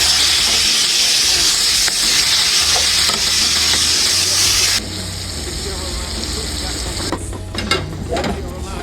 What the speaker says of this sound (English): The saute time on this fish may vary.